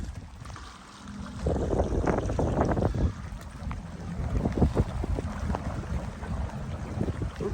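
A boat motoring through New Year floodwater near a threatened levee, rough churning water and wind rushing close to the microphone, swelling louder after the first second and staying busy, no voices.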